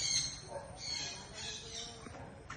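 A parrot at a zoo gives harsh, raspy squawks in a short burst, fairly close and loud over faint background noise.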